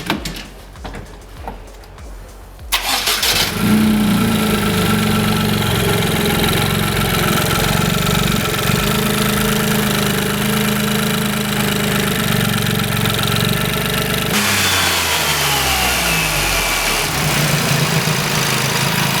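A Toyota GR Yaris engine with a carbon intake and aftermarket exhaust cranks and fires up with a sudden loud roar, then runs steadily at a rough idle before dropping off near the end.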